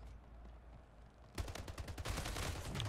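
Rapid gunfire in the Splitgate video game breaks out abruptly about halfway through, a dense, loud string of shots continuing to the end after a quieter stretch of game ambience.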